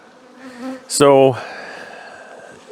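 Honey bees buzz close by as they are boxed up and moved, with a loud droning swell that rises and fades over about half a second, a brief spoken word just before it and a fainter hum around it.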